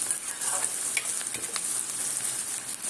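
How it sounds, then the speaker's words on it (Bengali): Sliced onions fry in hot oil to make beresta, a steady close sizzle with soft crackles and occasional stirring scrapes, no voices. "বেরেস্তাটা যেমন হয় ওইভাবেই তৈরি করবো। বেরেস্তাটাও ভাজা হয়ে গেছে"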